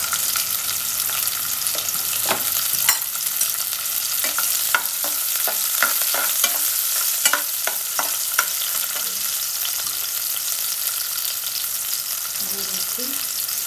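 Onions frying in a kadai on the stove for a small river fish recipe, a continuous loud sizzle punctuated by repeated sharp scraping and stirring clicks, with brief faint talk near the end.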